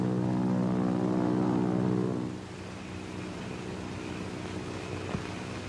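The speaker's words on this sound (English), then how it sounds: "Do you hear a plane?" A propeller airplane in a 1947 adventure film gives a loud, steady droning hum that then drops to a quieter, even engine rumble. The rumble carries on without talk.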